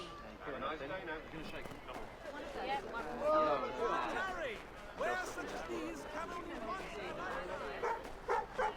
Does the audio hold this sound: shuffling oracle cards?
no